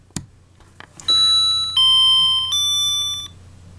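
After a couple of small clicks, the thin electronic beeper of a Casio ML-90 calculator plays a short alarm melody of pure sustained tones, clear and close.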